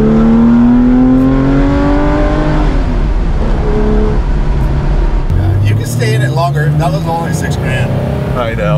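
A Porsche 964 engine, a $1.2 million restomod build, pulls hard under load, its note rising steadily and then shifting gear, loud and close throughout, with people talking over it.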